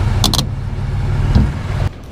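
A truck rumbles past close by, its loud low engine drone holding steady and then cutting off abruptly near the end, with a few brief higher clinks early on and no talking.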